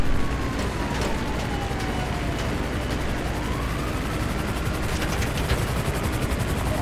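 Helicopters in the video game GTA V, a steady dense rotor drone that fills the scene continuously, with faint mechanical clatter layered in and no voices.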